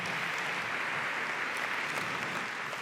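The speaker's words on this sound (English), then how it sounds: "So, give yourselves a round of applause." An audience at a career-advice talk claps steadily throughout, a dense and even burst of applause with no speech over it.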